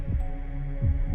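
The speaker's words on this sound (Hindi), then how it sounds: "दिल की धड़कन और तेज हो गई।" Heartbeat sound effect beating faster in a tense horror story moment, two deep low thumps about three quarters of a second apart over a steady low hum, with no talking.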